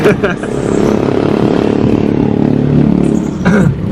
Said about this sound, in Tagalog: ingay-ingay naman tricycle na to.